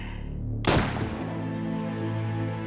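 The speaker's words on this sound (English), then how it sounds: "And I hear a gunshot." A single loud gunshot cracks sharply, then rings on with a long, humming decay.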